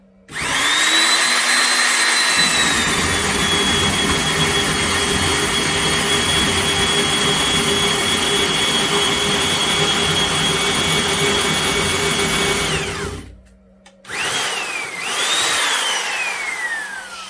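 A heavy old Makita "Hole Hawg" stud and joist drill whines at full speed for about ten seconds, with a rattling gear drone underneath, then spins down, restarts briefly and winds down again.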